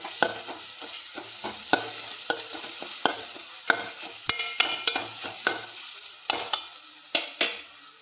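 A spoon repeatedly scrapes and clinks against a pan while chili and turmeric powders are stirred into a sizzling soybean roast, giving a close, rhythmic series of sharp knocks over a soft, steady fry.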